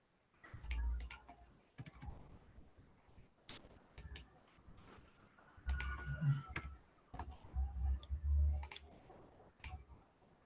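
Computer keyboard keys pressed during an Excel shortcut lesson, giving a series of quiet, irregular clicks and taps in small bursts, close up and with no talk over them.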